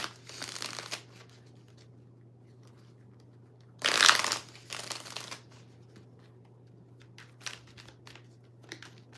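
Tarot cards being shuffled by hand during a reading, with several short riffling and crinkling bursts and one loud, dense flurry in the middle, close up over a faint steady hum.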